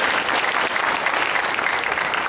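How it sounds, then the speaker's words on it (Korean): A church congregation claps in praise during a worship service, a full, loud and even wash of many hands that carries on without a break. "영광의 박수 돌립니다"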